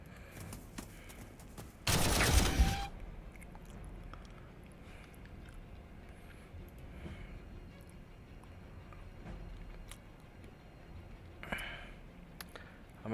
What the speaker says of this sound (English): We're gonna start shooting you guys up.